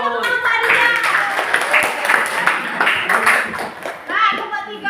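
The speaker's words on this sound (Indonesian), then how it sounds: "kasih tepuk tangan Pak Adinda." A classroom of students claps together in a sustained, uneven burst of applause, with children's voices chattering through it.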